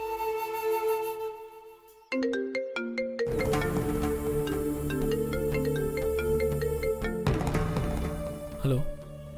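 A mobile phone plays a loud melodic ringtone for an unknown-number call in a Tamil TV drama scene, first as a sustained tone and then as a busy electronic tune with a bass line that continues throughout.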